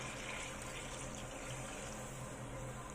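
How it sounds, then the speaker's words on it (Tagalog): Warm water pours steadily into a cooking pot for a chicken feet recipe, a continuous close splashing flow with no speech. "At maglalagay na rin tayo ng tubig."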